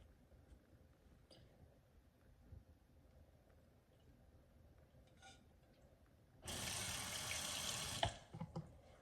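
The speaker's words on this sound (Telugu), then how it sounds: "సో ఇది ఇప్పుడు వామ్ వాటర్తో వాష్ చేయమన్నాడండి. కొంచెం సోప్ వేసి అలాగే చేస్తున్నాను." A new HexClad skillet washed by hand with soap under a running kitchen tap, quiet handling clinks before a steady gush of water starts and splashes over the pan near the end.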